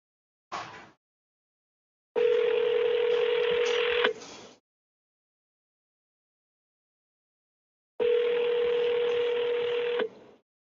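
Telephone tones on a phone call: a short beep, then two long steady dial or ringback tones of about two seconds each separated by silence, clear and close with no talk.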